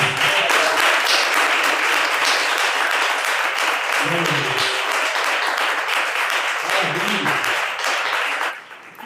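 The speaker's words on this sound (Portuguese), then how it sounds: "Pode louvar a Deus com as palmas?" Church congregation clapping in praise during a worship service, a loud sustained round of rhythmic hand claps lasting about eight seconds, with voices mixed in, before fading out.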